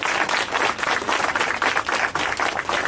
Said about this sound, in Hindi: तालियां देंगे प्रभु को